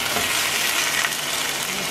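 Chicken frying in a pan on a stovetop while Persian food is cooked, giving a steady, close, broadband sizzle that carries on without a break and with no talk.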